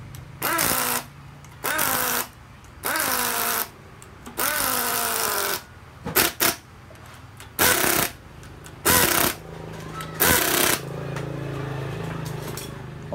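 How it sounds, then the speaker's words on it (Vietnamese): An impact wrench tightens the clutch bolts on an Ex150 motorcycle in a series of short, loud rattling bursts of about a second each, separated by quiet pauses, with a few quicker clicks in between. "Còn ở đây là mình làm quen rồi thì mình sẽ dùng súng mình vặn."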